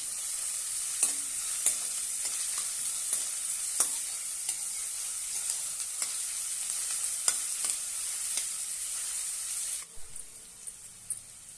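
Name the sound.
finely chopped onion sautéing in a pan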